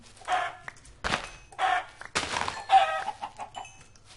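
Several Minecraft chickens cluck and squawk in short bursts with brief pauses between, fairly close and clear, with no one talking.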